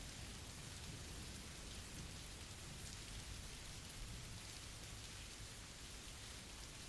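Steady, even rainfall pours down in a dense, continuous hiss with low rumbling underneath, a soft unbroken wash of rain with no voices.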